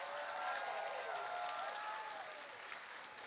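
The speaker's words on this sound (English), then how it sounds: "let's please have one final round of applause for all of our contestants" Steady applause from a convention audience for costume contest contestants at GalaxyCon Raleigh, a continuous dense patter with faint whistles and cheers riding over it, fairly distant and even throughout.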